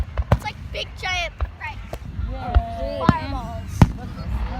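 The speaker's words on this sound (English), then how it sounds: "you can watch and enjoy the fireworks!" Outdoor fireworks go off in sharp, irregular bangs, several loud cracks spread across the moment, while people talk and children's voices rise between the explosions.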